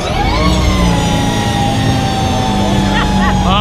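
A motorcycle on display at the 2020 International Motorcycle Show in Denver, throttle rolled on from low to high, giving a loud, steady engine drone that climbs in pitch at first and holds under a noisy hall.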